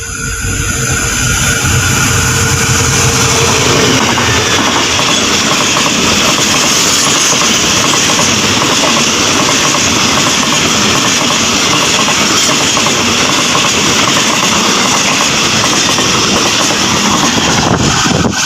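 Freight train 557 running from Map Ta Phut to Nong Khai rolls steadily past through open grassland before a curve, a continuous loud rumble with rail clatter and wheel noise lasting throughout, close by.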